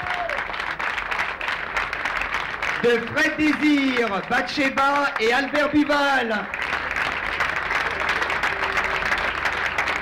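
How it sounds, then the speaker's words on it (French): An audience applauds at a special televised music show in Martinique devoted to a Haitian band. Steady crowd clapping runs under a presenter's voice and pauses while someone sings or calls out mid-clip. "applaudissez"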